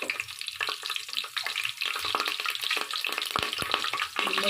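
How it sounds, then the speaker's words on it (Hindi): Curry leaves dropped into hot oil while cooking arvi (taro root) sizzle and spatter steadily, a dense continuous frying crackle with occasional stirring scrapes and louder pops. "ऑयल ज़रा सा गर्म हो गया तो इसमें कड़ी पत्ता डालेंगे"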